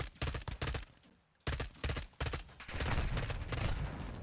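Gunfire in Call of Duty MW2 multiplayer: clusters of sharp close shots and bursts, a short lull, then more rapid firing building into a dense sustained volley.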